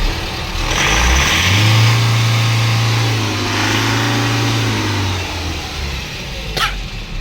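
A Force Motors bus diesel engine, checked for injector fault code P0204, starts up and revs, a loud, close mid-pitched roar that swells for several seconds, settles, then dies down, with a short sharp noise near the end.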